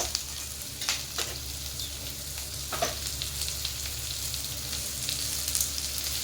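Grated radish for chutney stir-fried in a hot pan, a steady sizzle broken by a few sharp scrapes and stirs, close and alone.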